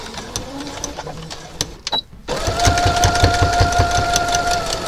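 Sewing machine stitching vest fabric for a McCall's 2447 pattern, starting with a few soft clicks and a short pause, then settling into a loud, fast, steady mechanical whir close by.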